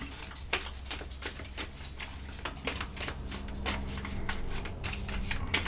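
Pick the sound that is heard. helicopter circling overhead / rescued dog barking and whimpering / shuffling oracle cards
shuffling oracle cards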